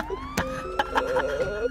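A police car siren in Grand Theft Auto 5 holds a steady tone, with sharp impacts cutting through and a voice talking over it.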